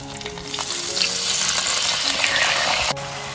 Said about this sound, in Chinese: 把料汁淋进来，